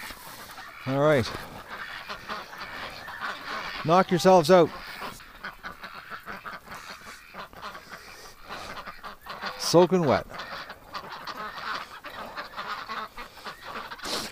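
Soaked ducks outdoors in winter, fed hay, burst into three distinct rounds of loud, close honking quacks separated by quieter stretches, with someone briefly talking between them.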